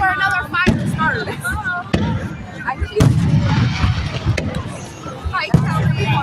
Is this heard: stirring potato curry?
no